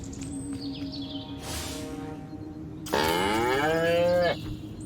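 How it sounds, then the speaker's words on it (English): Cow mooing in the Destroy All Humans video game, one long drawn-out low moo rising and falling in pitch, loud and clear over faint ambient game noise and a brief earlier hiss. "Again with the moo"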